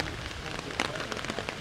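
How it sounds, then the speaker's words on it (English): Rain patters steadily outdoors at night in the Rainbow Lakes Wilderness, a dense hiss with scattered sharper drops close by; no thunder stands out in the brief stretch. "The glow of the fire and the sound of the rain and the thunder and the laughter from friends hanging out."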